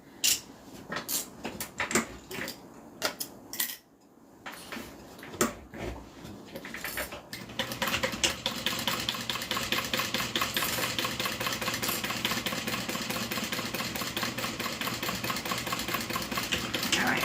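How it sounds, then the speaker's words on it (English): Scattered clinks and handling noises come first, then a sewing machine runs steadily along the bottom edge of a fabric notebook holder with a continuous mechanical whir that lasts to the end. "now what we're going to do is just sew along the bottom."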